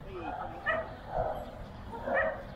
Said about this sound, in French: les chiens, quand ils vous jappent à l'oreille